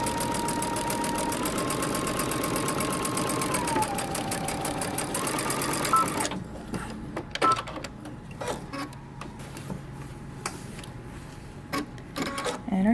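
A domestic sewing machine runs steadily, back-stitching the shoulder seam of a Simplicity 8451 dress, a continuous loud motor whir for about six seconds before it stops and quieter handling noises follow.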